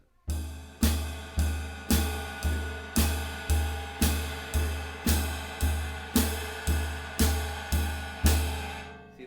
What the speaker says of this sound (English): we're actually going to create a little bit of a lift on our ride cymbal beat